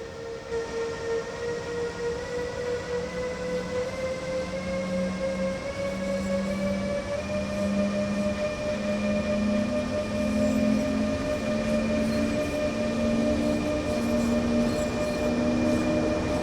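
An electric train in Train Sim World running steadily, with a constant loud motor whine whose tones climb gradually as it accelerates.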